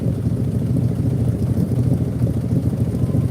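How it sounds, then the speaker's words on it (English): A 1972 Highboy pickup truck engine idles steadily, slightly high, and close by, a low, even rumble with a fast throbbing pulse and no other sounds. "It's idling just a little high."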